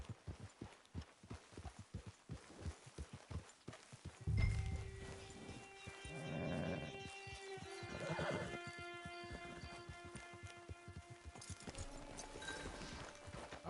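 Horse in the Red Dead Redemption 2 video game, with steady hoof clip-clops and a couple of neighs and snorts over soft game music, rising to a louder burst midway.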